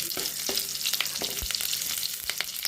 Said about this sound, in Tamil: கருவேப்பிலை போட்டுக்கலாம் பூண்டு போட்டுக்கலாம் காஞ்சி மிளகாய் போட்டுக்கலாம் ஒரு கிளறு கிளறிக்கலாம்